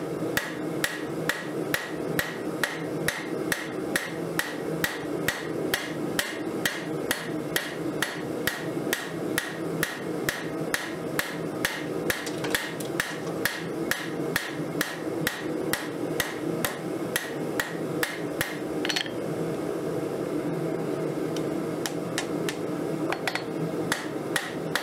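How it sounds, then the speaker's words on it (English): A hammer strikes hot 1080 steel while forging a railroad spike knife, giving rapid, steady, loud ringing blows in a regular rhythm with brief pauses, ending in a few scattered hits. "Let's get some whip hammered into this."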